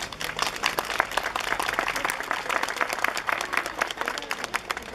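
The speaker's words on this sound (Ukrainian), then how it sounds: "Я думаю, це вартує ваших оплесків для нашого міста." Outdoor audience applause at a peace-tree planting ceremony, a lively mix of many individual hand claps forming a steady, moderately loud ovation.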